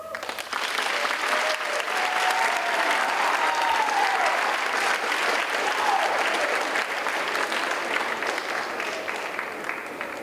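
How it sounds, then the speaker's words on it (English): Sustained applause from a student audience at a high school guest speaker event, dense and steady at full volume for the whole stretch, with faint voices mixed into the crowd. "another round of applause"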